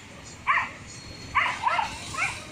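An injured street dog with a maggot-infested wound on its back lets out short, high whimpering yelps: one near the start, then a cluster of three or four, close by over a quiet background.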